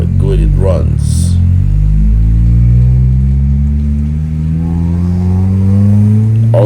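A Honda Civic VTi with a built D16Z6 engine drives off, its engine rumbling loud and close as the revs rise, hold, then climb again, with a brief voice at the start.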